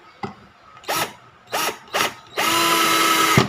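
A torque-setting collar on a Black and Decker GC1800 drill is turned, giving three short bursts of close ratcheting clicks and then a longer, steady run of clicking, with no talk.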